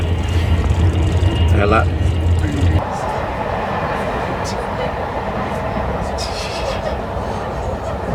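Steady interior rumble of a moving Virgin train, a continuous broadband roar with a low hum that drops away partway through, while a voice speaks briefly.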